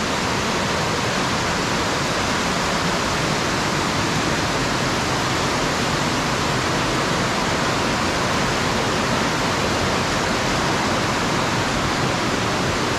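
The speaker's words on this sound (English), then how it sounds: "That water just runs all down through there." Water rushes down a stream on the rim in a constant, loud, even roar with no pauses and no voices.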